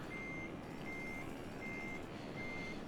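Truck reversing beeps in Euro Truck Simulator 2: four steady, evenly spaced high beeps over a constant loud engine rumble, with no talk.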